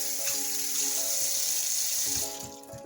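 Soaked chickpeas stirred around by hand in a bowl of water, a steady close sloshing and trickling with faint clicks of beans knocking together, easing off toward the end.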